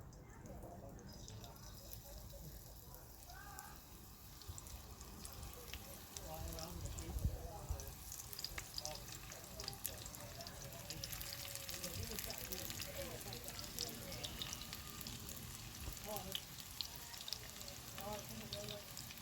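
Food sizzles and crackles steadily on a hot barbecue grill while beer can chicken is cooked, with a person talking over the sizzling throughout.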